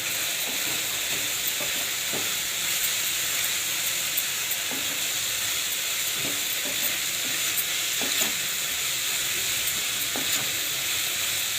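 Yippee noodles with coriander being stirred in a pan, a continuous loud sizzle with faint scraping strokes of the spoon throughout, no talking.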